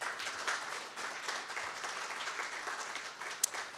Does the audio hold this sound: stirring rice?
no